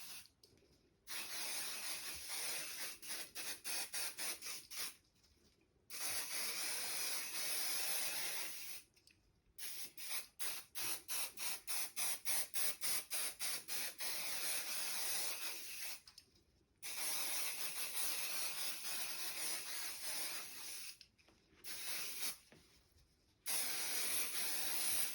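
Bursts of hissing spray adhesive sprayed onto quilt layers, some long and steady, others in quick rapid puffs, separated by short silences.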